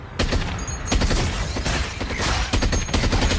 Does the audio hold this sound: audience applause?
no